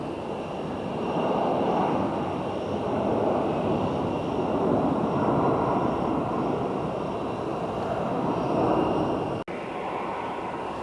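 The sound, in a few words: airplane landing at Phoenix airport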